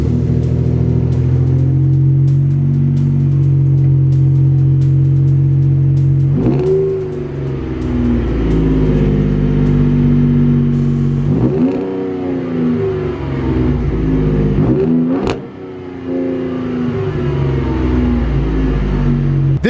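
A 2019 Ford Raptor V6 truck idles with a deep, close exhaust rumble, then snaps through several sharp revs that climb and fall back, the last one a quick blip before settling to idle.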